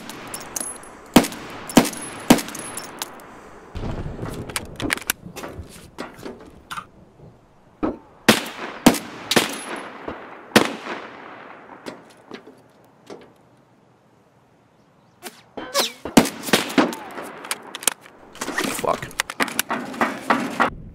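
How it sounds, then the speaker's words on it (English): Gunfire in the shooter game Escape From Tarkov during a rooftop firefight: repeated sharp shots in bursts and single cracks, loud and close, with a quiet gap midway before more shots resume. "here you see on the roof, I spot a guy and I start taking shots at him"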